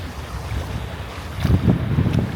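Strong wind at a beach buffets the microphone in low rumbling gusts that swell louder toward the end, with no voices.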